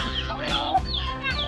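Rooster clucking close by in a barnyard, several short throaty clucks in quick succession with no talk over them.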